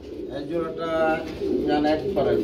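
Pigeons coo at a pigeon farm where birds are sold, several soft, throaty coos rising and falling in steady bursts close by, with a busy murmur of people in the background.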